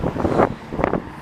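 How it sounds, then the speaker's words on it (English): Wind gusts rush and roar against the microphone in two strong surges, with low rumbling buffeting throughout. "It's lovely and windy."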